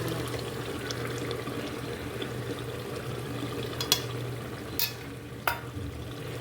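Ginger paste goes into a hot pan of oil for yakhni pulao, giving a steady close sizzle and frying hiss, with a few sharp clinks of a spoon near the end.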